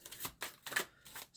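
A tarot deck shuffled by hand, quiet papery riffles and slides repeating in quick rhythmic bursts, soft and close with no talking.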